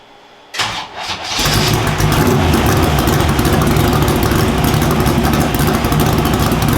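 A small-tire drag car's powerful engine cranks and roars to life on the street, then holds a loud, rough, steady rumble up close.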